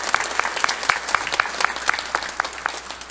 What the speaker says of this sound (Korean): 오늘 찬양으로 수고해 주신 우리 수요 찬양대에게 다시 한번 큰 박수로 한번 축복해 주시기 바랍니다